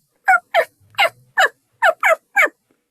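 Radio-show sound effect of startled birds disturbed by a dog: seven quick, loud squawking bursts in an uneven rhythm, close and alone, with a low brief rumble between them.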